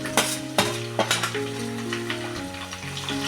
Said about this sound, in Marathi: हे बघा आता मी हे टॅमॅटो टाकते